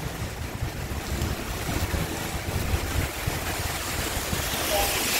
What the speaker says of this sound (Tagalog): ang lakas po ang hangin